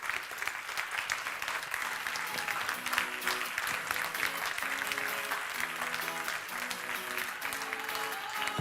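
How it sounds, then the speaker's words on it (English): Sustained audience applause at a youth group event, with dense, even clapping lasting almost nine seconds. Faint music or voices run softly underneath. "I'd like to give a big round of applause to the 2 guys, Warren and Shaquille"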